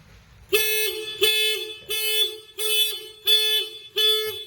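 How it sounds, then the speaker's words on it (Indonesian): A loud, close motorcycle anti-theft alarm on a Honda Beat Deluxe blares in six regular pulses about two-thirds of a second apart, each a steady buzzing tone. "5 detik alarm berbunyi, sen hajar menyala seiraman dengan suara alarm."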